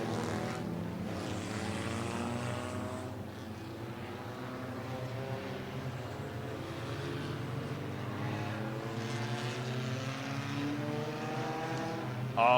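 Race cars start a 20-lap oval feature race, and the engines blend into a steady, droning roar with rising and falling tones from across the track.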